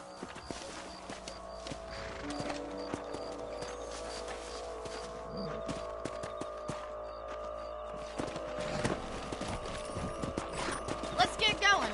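Horses' hooves clip-clop in Red Dead Redemption, a steady rhythmic patter under game music and faint mechanical clicks, with a voice speaking briefly.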